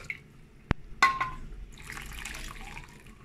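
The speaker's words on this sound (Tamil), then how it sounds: "தண்ணி மிக்ஸ் பண்ணி சேர்த்துக்கலாம்" Water mixed in and added to lentil gravy in a cooking pot, a sharp click followed by close splashing and a soft trickling pour.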